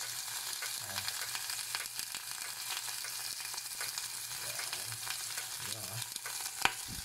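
Shrimp frying in olive oil with pepper, a soft, steady sizzle and crackle heard close up with occasional faint stirring clicks and no talk.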